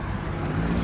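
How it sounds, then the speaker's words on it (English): A car rolls past on a cold roadway, a steady close rumble of engine and tires with wind noise throughout, no voices. "waiting for this car to go."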